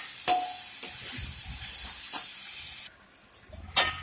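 Ridge gourd with green chili sizzles in a pan while a spatula stirs and scrapes in a few sharp strokes; the frying hiss drops off near the end before one more clatter, close and without talk.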